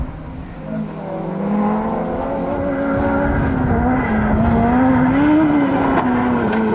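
A Ford Puma rally car's engine howls loud and close on a rally stage, its pitch rising and falling steadily through revs and gear changes with light tyre and gravel noise underneath.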